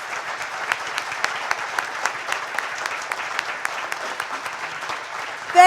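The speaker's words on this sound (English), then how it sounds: "a round of applause and appreciation to our candidates" Audience at an all-candidates election debate in Surrey applauding candidates: steady, moderately loud clapping from a small crowd with distinct individual claps, continuing evenly throughout.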